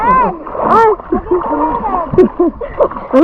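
Someone does a backflip off a boat or rocks near Tambaron island, Bulalacao, and splashes into the sea, with a watery splash amid excited shouting and laughter from nearby swimmers.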